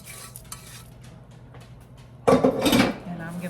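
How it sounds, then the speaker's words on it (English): A cooking pan for a creamy chicken and rice casserole shifts and scrapes on a kitchen counter, a loud close clatter and rub after a stretch of quieter handling noise. "Let me see if I can turn my pan this way."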